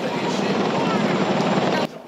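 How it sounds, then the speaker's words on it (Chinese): A Chinook military helicopter flies over carrying a giant national flag during a ceremony rehearsal in Taipei, a loud steady rotor roar filling the clip before dropping off sharply near the end. "亲鲁克直升机吊挂巨幅国旗进场"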